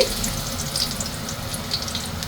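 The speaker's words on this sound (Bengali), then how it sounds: "কড়াইয়ে সামান্য পরিমাণ তেল দিয়েছি এরপর রসুন কুচি" Chopped garlic sizzles in a little oil in a wok, a steady close crackling hiss with no voices over it.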